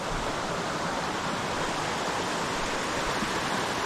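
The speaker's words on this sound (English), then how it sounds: "You can hear some good roaring water" Roaring creek water in the backcountry of the Smoky Mountains rushes in a loud, steady, close wash of broadband noise with no pauses or other sounds.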